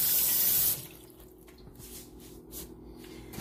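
A kitchen tap runs briefly and loudly as hands are washed, then the water cuts off, leaving soft drips, splashes and wet rubbing of hands at a sink.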